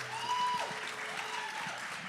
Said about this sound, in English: Let's give a round of applause for Jeff